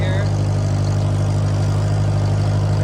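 A tractor with a manure spreader idles in a hay field, a loud, steady low engine drone with a constant hum close by throughout.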